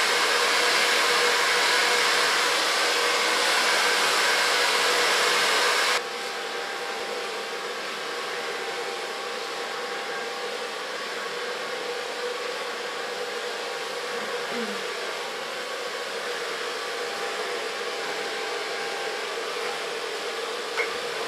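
A hair dryer blows on an ultra short platinum hairstyle while it is styled with an ultra light brush. The loud, steady airy roar drops to a slightly lower level after about six seconds and then holds evenly to the end.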